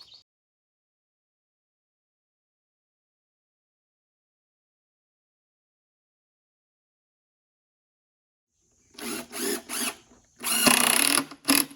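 A power drill drives screws into a wooden firewood rack in several short bursts, one after another and loud and close, after a long stretch of silence.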